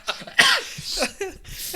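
A person coughs a few times in quick succession, close and fairly loud, with throat-clearing rasps and no talk.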